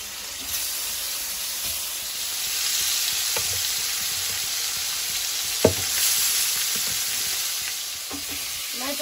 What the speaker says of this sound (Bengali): মাছগুলো ভেজে নেব। এই মাছগুলো খুব ফাটে।